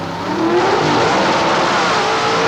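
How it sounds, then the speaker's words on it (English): Brand new drag race car powered by a 351 cubic inch Cleveland Ford engine launching at a drag strip, a loud, steady, rough engine roar that holds full volume throughout. "Powered by a 351 cubic inch Cleveland Ford. The brand new race car."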